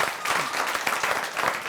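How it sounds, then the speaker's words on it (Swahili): Audience applause for comedian Nick Kwach at a comedy show in Kenya, a short, dense burst of many hands clapping, fairly loud and close, with no voices over it. "Pigeni Kwach makofi."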